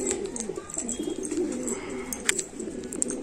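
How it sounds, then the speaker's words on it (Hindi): Pigeons in a breeding loft during winter coo continuously in overlapping low phrases, with occasional chirps and small clatters, a lively flock close by. "केज में भी वहाँ पे कबूतर है, देख सकते हैं आप लोग।"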